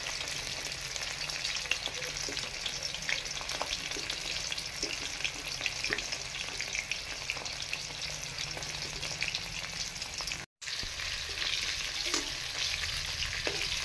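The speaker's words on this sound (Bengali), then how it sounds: "এপিট উপিট করে লাল লাল করে আমি ভেজে নেব মাছগুলো" Fish pieces for masala fish fry sizzle in oil over low heat with a dense, steady crackle. The frying stays fairly loud throughout, drops out for a brief instant, and no voice is heard over it.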